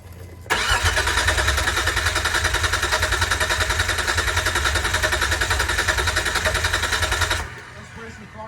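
A car engine is cranked by its starter in a long, even, rapid whirring churn that lasts about seven seconds and then stops abruptly without catching.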